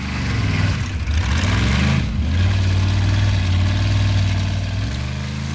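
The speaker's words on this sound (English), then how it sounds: "Engine not sounding healthy there, and that's very bad news." A Formula Offroad race car's engine runs roughly and sounds unhealthy, with a loud steady low drone that stumbles and dips near the start and again around two seconds before holding on.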